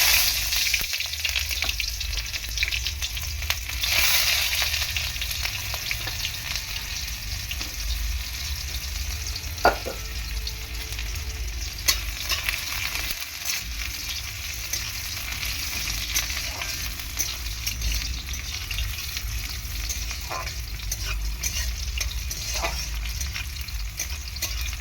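Chopped onion frying in a pan for Bengali potato curry, a steady bright sizzle with crackling hiss throughout, with occasional soft stirring clinks and scrapes.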